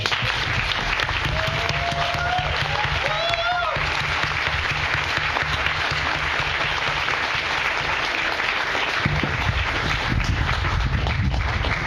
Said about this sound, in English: One more round of applause for our panel.